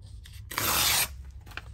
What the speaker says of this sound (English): I'm going to tear it off.